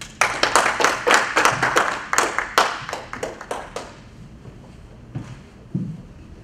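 An audience at a preservation awards ceremony applauds to welcome a presenter, with steady hand clapping that thins out and fades over several seconds until a few scattered claps remain.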